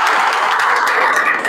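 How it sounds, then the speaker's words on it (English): A classroom of students clapping for themselves during an activity class, giving a short, bright burst of continuous hand claps that stays steady and fairly loud until it ends. "Clap for yourself."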